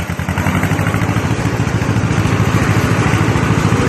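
John Deere M tractor with three-point hitch driving in second gear, its engine chugging in a fast, steady, even rhythm, loud and close with a rattling mechanical clatter and no talk.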